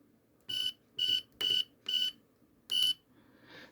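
A home security alarm system emits a countdown after being armed: five loud, evenly spaced electronic beeps, then a fainter tone at the end, heard alone and close.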